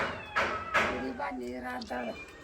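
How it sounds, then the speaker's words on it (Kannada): A cat meows several times in a village setting, a series of close, moderately loud calls with people talking around it. "ಈ ಕಡೆ ಇಲ್ಲಿ ಪುಸಿ ಬಂತ ನೋಡ್ ಕರಿತೈತೆ"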